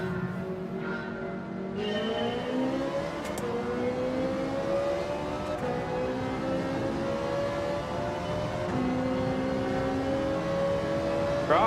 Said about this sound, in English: Ferrari looks quite good on the acceleration there